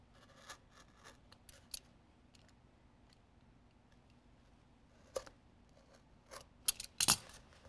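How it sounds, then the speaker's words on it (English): Scissors cut along and across a cardboard toilet paper tube, a handful of faint, sparse snips and clicks in a quiet room, followed by a louder cluster of crisp cuts near the end. "I'm going to go straight down the middle till I get to the ends. And then I'm going to cut across those ends."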